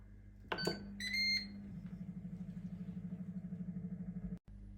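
A Ninja Foodi air fryer set to dehydrate strawberries gives a short bright beep, then a couple of quieter tones as start is pressed, followed by a low, steadily pulsing fan hum that cuts off abruptly near the end.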